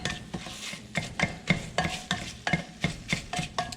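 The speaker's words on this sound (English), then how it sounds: "right now I'm using the mix and chop to chop up my Italian sausage" Mix and chop tool breaking up Italian sausage in a hot pan, a rhythmic series of about a dozen scraping, pressing strokes roughly three per second over a faint sizzle, close and distinct, no speech.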